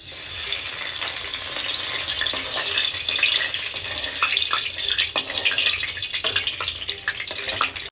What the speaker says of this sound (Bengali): তেলটা গরম হয়ে গিয়েছে এর ভিতরে দিয়ে দিচ্ছি দুটো তেজপাতা